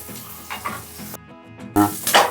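Chopped onions fry in a pan over a low flame until golden for mutton pulao, giving a soft, steady crackling sizzle with scraping stirs and a brief louder burst near the end.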